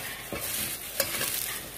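Beaten rice (avalakki) stirred into a powdered mix for sweet panchakajjaya, giving a steady soft grainy scraping and rustling close by, with one brief sharper scrape partway through and no talking.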